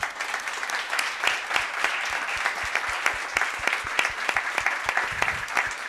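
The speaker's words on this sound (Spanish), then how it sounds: "les pido que les demos un aplauso a los panelistas" Audience applause for panelists at the close of an Impact Days panel discussion, a moderate crowd clapping with distinct individual claps standing out in a steady, fairly quiet patter.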